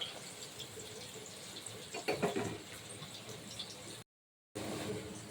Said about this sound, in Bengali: আর এদিকে দেখুন আমার ডালটাও ফুটছে